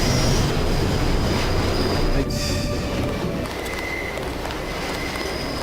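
Subway train in the Deus Ex video game, a steady loud rumble of rolling wheels with thin metallic squeals and faint clatter, continuous throughout and slightly easing partway.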